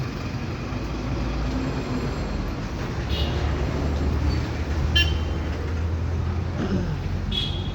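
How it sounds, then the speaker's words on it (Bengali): A metro train runs past along a road in Mukundapur, a continuous low rumble and rolling wheel noise with brief higher squeals and clanks, steady and fairly close throughout. "দেখতে পাচ্ছ মেট্রো এই রাস্তা"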